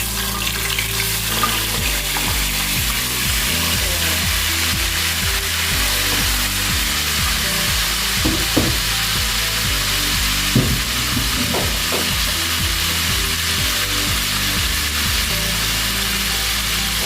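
Shrimp fry in hot oil for a Nigerian-style fried rice, with a loud, steady sizzle and crackle that continues without pause.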